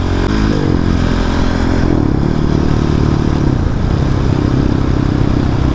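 A Husqvarna 701 motorcycle being ridden, its loud engine droning steadily up close with pitch shifts as it changes speed, mixed with wind rush and rattling.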